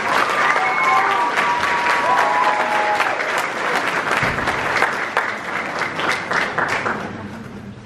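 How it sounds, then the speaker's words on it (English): A high school jazz night audience applauds a band player, a loud sustained crowd clapping that stays dense and then gradually thins and softens toward the end. "one more round of applause for him"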